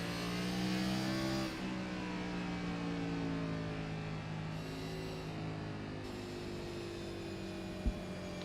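A race car engine in a stock car racing video game at Bristol Motor Speedway, car 72, droning steadily with sustained revving tones that shift pitch, fairly quiet, with a brief knock near the end.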